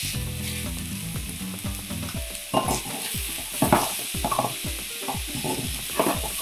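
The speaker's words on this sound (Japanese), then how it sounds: "さっと炒めて、ここにシーフードミックスを入れます。" Seafood mix stir-fried in a pan with shredded green pepper, a steady hiss of frying under repeated scraping and tossing of the spatula, close and lively.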